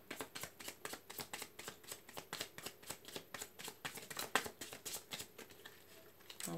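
Tarot cards are shuffled in a rapid, even rhythm of soft riffling flicks, close and quiet, with no talk over them.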